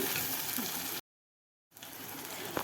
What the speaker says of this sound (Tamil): இப்போ வந்து பீக்கங்காய் வதங்கிடுச்சு கருவாட்டை போட்டிருக்கேன் அதையும் கொஞ்சம் வதக்கிட்டு